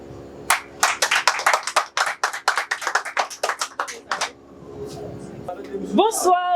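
An audience claps for an arriving performer at a Haitian evening show, a burst of applause swelling and fading over several seconds before a voice begins speaking over a quieter room.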